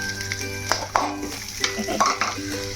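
Onions frying in oil in a pan for egg fried rice, with sizzling and scraping stir strokes at an irregular rhythm, close and fairly quiet.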